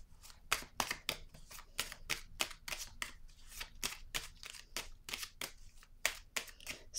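Cards being handled and laid down one after another during a tarot-style reading, a quick run of crisp, close slapping and shuffling clicks at a steady, busy rhythm with no voices.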